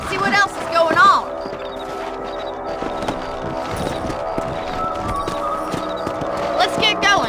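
Horses trotting in the video game Red Dead Redemption, with steady rhythmic hoofbeats moving at a brisk pace under background music, plus a brief snort or whinny near the start.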